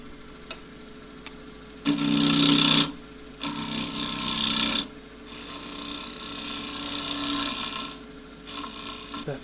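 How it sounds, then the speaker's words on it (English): A rasping, rhythmic whirring of split pistachio wood spinning on a lathe, with a fast repeated slapping flutter from the split that swells in several loud bursts, close by. "That whipping sound is the split."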